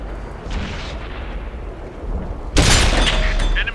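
A Nashorn tank destroyer cannon fires in World of Tanks with one loud booming blast near the end, preceded by low rumbling battle ambience and a softer distant thud.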